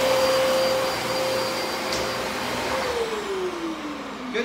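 A Dyson DC33 vacuum cleaner runs with a loud, steady motor whine and airflow roar, close up, its pitch sliding down near the end.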